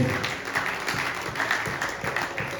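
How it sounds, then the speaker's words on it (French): A church congregation applauds in a steady wash of clapping from many hands, filling the hall for a few seconds without a break. "Here we applaud."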